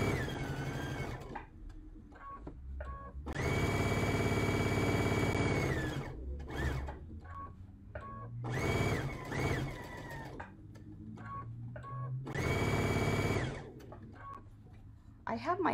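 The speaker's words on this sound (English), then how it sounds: "I can do it all in one big one long stretch of sewing" A sewing machine stitches a holiday dishtowel in long bursts of fast whirring, stopping and starting between runs, with someone talking over and between the stitching.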